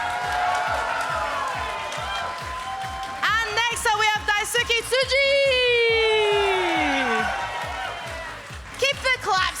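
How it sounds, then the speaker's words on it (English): Convention panel audience at TooManyGames 2025 bursts into loud, sustained clapping and cheering with whoops, close and dense, while an announcer speaks over it introducing guests. "Keep the claps going, you guys"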